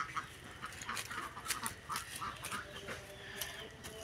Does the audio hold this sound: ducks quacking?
yes